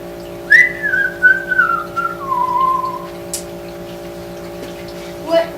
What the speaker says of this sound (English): And I whistled.